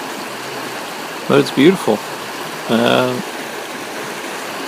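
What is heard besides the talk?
water flowing in a channeled creek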